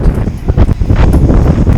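Strong wind buffets cyclists on a group ride, a loud, continuous roaring rush with gusty swells and flapping jersey fabric close to the microphone.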